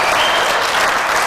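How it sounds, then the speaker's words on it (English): A crowd at a training course bursts into applause, a dense, loud wash of clapping filling the short moment without a break. "Huge reaction from the crowd."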